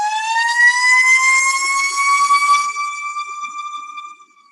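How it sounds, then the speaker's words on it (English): A loud single siren holds a steady, harmonic-rich tone that slowly rises in pitch, then fades toward the end, with no voices. "waiting for this siren"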